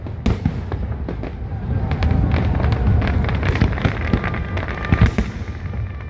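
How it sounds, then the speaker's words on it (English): Fireworks finale over Boston on Independence Day: a dense barrage of booms and crackling bursts, some near and sharp, others distant, rolling almost continuously at high volume. "Didn't I promise you fireworks? Yeah. Last line for Independence Day."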